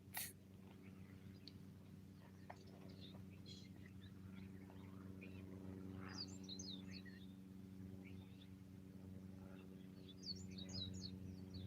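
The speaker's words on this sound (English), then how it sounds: "let's listen to the birds" Birds chirp in scattered short bursts over a steady low hum, with brief trilling calls standing out now and then against the background.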